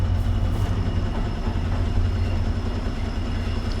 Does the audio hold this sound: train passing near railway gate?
yes